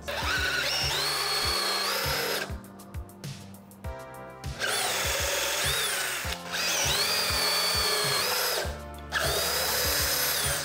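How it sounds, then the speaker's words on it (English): DeWalt cordless drill running on a PowerStack battery, several loud close whirring bursts that rev up and hold, separated by brief pauses with clicking and handling noises between runs. "They told me that DeWalt feels different compared to every other drill."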